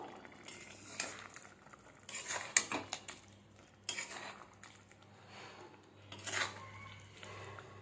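Metal utensil scraping and clinking against a pan in irregular strokes as spices are mixed into frying chicken, with a soft sizzle underneath; no talking.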